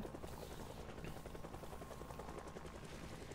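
A helicopter in the zombie survival game Project Zomboid gives off a steady, faint rotor thrum and hum with no break, heard alone and without talk.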